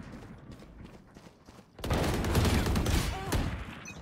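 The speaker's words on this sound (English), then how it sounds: "Who the hell is shooting me from over there?" Gunfire erupts in a video game, first sparse single shots, then a sudden dense burst of rapid automatic fire that stays loud and close for a couple of seconds, with a voice faintly present.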